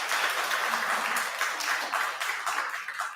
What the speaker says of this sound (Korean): 갑자기 박수 타임?